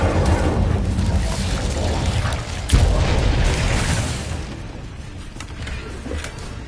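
The Incendio fire spell explodes in the Hogwarts Legacy video game as a dense, rumbling boom over continuous battle noise. One sharper blast hits midway, then the din slowly fades.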